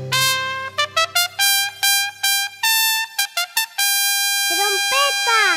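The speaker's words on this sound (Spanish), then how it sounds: "¡Trompeta! ¡Muy bien! Es una trompeta." Trumpet sounding a rhythmic series of short bright blasts and repeated notes, then a longer held phrase with a falling bend at the end, loud and up front.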